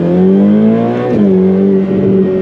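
A Ferrari 488 Pista's engine revs loud and close in a steady harmonic drone, dipping sharply once midway as it drops a gear, then settling back into a strong, even note.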